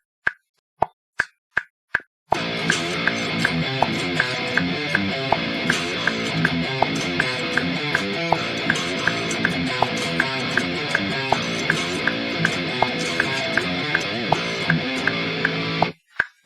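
Electric guitar part being tracked in Reaper: a few sharp muted hits, then a dense, loud, distorted riff over a driving beat for about fourteen seconds, ending abruptly with a couple more hits.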